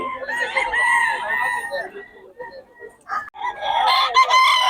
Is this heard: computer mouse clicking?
no